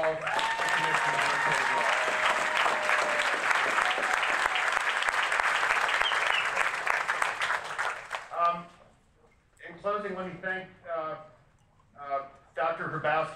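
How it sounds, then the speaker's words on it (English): An audience at an ADA anniversary event applauds the commissioners, loud sustained clapping for about eight seconds before it fades and a voice begins speaking. "Can we have a round of applause for all the commissioners?"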